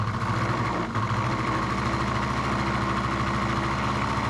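A cold Honda Dio scooter engine runs close by, holding a steady, buzzy rev with a slight throb and no pauses or voices.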